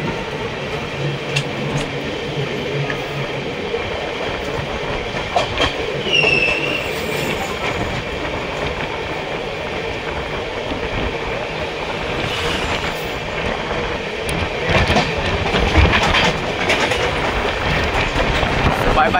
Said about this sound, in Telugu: ఆదిలాబాద్ టు తిరుపతి కృష్ణ ఎక్స్ప్రెస్ అయితే వచ్చింది. ఇది కజ్జిపేట్ జంక్షన్లోకి అయితే ఎంటర్ అవుతుంది.